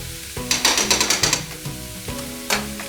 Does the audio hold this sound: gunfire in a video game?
no